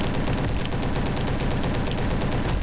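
SM-03 submachine gun firing in Roblox Bad Business, a loud, continuous rapid stream of shots with a dense, unbroken rattle from start to finish, with no voices over it.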